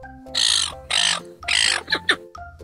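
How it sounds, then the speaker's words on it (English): A gull calling with loud, harsh squawking cries, three long calls followed by shorter broken ones, close and clear over a low steady background tone. "Gull."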